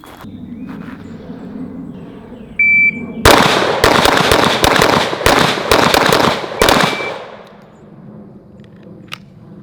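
Rapid Glock pistol shots ring out at a 25-yard target on an outdoor range, a tight burst of about six or seven loud, sharp cracks over a few seconds, then quiet.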